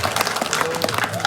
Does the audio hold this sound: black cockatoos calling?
no